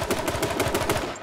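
Rapid gunfire from the battle-royale game H1Z1 (King of the Kill) crackles in a quick burst of about seven or eight sharp, evenly spaced shots, loud and close with nothing else heard.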